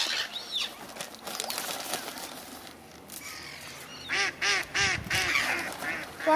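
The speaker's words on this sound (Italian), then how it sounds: "Sta seguita una papera." A duck honks in a quick series of repeated calls near the end, against outdoor background noise with a black swan nearby on the water.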